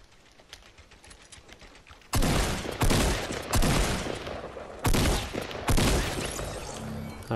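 Rapid gunfire bursts from Fortnite rattle loudly in several clustered volleys after a quiet start, each burst a dense string of sharp cracks with short gaps between.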